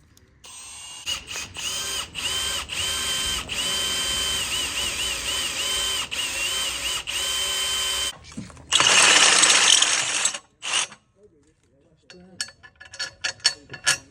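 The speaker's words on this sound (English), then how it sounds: "Drilling some holes out." A power drill bores holes in metal seat brackets for an E46, running steadily at close range for several seconds before a loud burst of grinding, then brief ratcheting taps.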